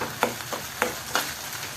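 Cooked minced mutton kheema is stirred in a hot pan, making four or five brief scraping strokes over a faint, steady sizzle; no one speaks.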